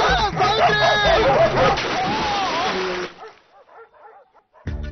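Dogs bark and yelp loudly and rapidly for about three seconds in a Telugu film scene, then the sound cuts off into near quiet.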